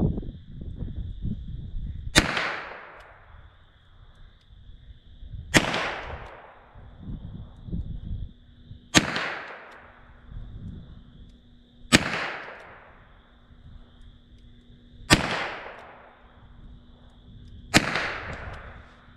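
Six sharp gunshots from a .32 S&W snub-nose revolver fire at an outdoor range, evenly spaced about three seconds apart, each loud crack followed by a brief ringing decay.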